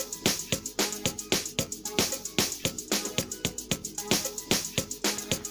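A D tune synth melody built in FL Studio Mobile for an amapiano-style track plays as a rapid series of short, plucky notes in a bouncy, repeating rhythm.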